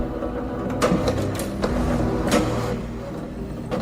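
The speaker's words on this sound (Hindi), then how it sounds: "प्रिंटर के चलने की आवाज तो हुई" A printer runs inside an office, a mechanical whirring hum with a few sharp clicks and feed shuffles rising over a steady low drone, close by and continuous.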